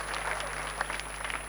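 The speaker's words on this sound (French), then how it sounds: "Applaudissez pour ce monsieur." Applause from an audience at a Guinean school competition final, steady clapping across the whole moment at moderate distance, with a faint voice over a constant electrical hum.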